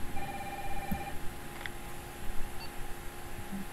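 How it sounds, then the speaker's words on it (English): A telephone rings in Resident Evil 3, a repeating electronic ring tone over a noisy game soundscape, a few short beeps and clicks alongside, with no talking. "Okay, I'm gonna go answer the phone."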